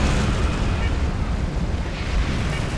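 Torpedo volleys strike a ship in the Star Trek Online video game, making loud, continuous rumbling booms and bursts that roll together without a break.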